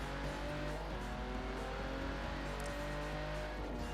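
A sports car engine in the video game Forza Horizon 4 hums and drones steadily throughout, its pitch wavering slightly, with no one speaking.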